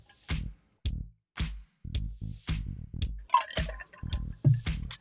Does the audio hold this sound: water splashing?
yes